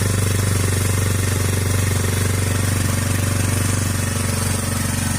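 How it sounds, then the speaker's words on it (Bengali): Bajaj 4S Champion motorcycle engine, previously making a bad noise, idling after being fixed, a loud, steady, rapid mechanical putter with even rhythm and no voices. "তো আমাদের বাইকটি স্টার্ট হয়ে গেছে"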